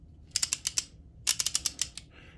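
A 1/2 inch drive click torque wrench ratchets in two quick bursts of crisp, close clicks, five or six each, separated by a short pause, with a faint scrape at the end.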